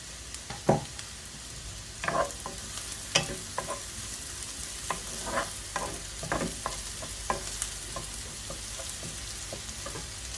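Chopped garlic fries for mushroom soup over medium heat, a soft steady sizzle in the pan broken by several spatula scrapes and stirs.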